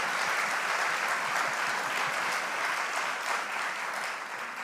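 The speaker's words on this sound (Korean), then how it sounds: "그래서 다시 한 박수 드려야 될 것 같아요." Sustained applause from a university chapel audience honoring the elderly university president, steady and dense throughout, with no talk over it.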